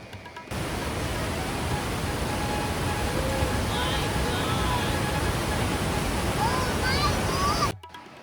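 Steady, loud rushing roar of Jamjir waterfall in Gir, Gujarat, fills the scene, broadband and unbroken, with a few faint bird chirps above it.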